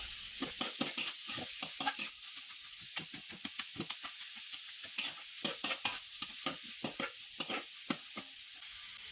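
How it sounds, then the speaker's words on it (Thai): Pork and garlic stir-frying in a pan, a steady loud sizzle and hiss broken by repeated scraping strokes of the spatula in an irregular rhythm, with no voices. "ให้เพื่อนๆผัดหมูของเราไปเรื่อยๆครับ"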